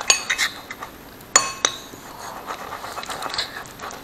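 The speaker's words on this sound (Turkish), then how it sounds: "Böyle iyicene karıştırıyoruz arkadaşlar." A utensil stirring slime mixture in a bowl gives a few bright clinks in two small clusters, close and sharp, with quieter wet shuffling between.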